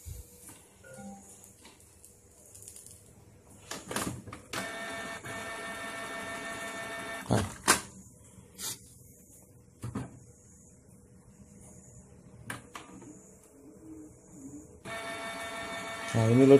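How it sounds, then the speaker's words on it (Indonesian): A Canon MP287 inkjet printer, showing error code E03, powers on and loads, giving soft clicks and knocks followed by sustained whirring mechanism runs, with someone talking quietly at times. "Oke, kita hidupin printernya."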